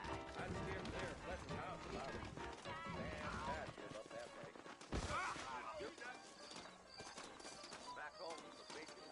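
Horses' hooves clip-clop in Red Dead Redemption, a rhythmic trotting beat under ongoing voices, with a louder thud partway through.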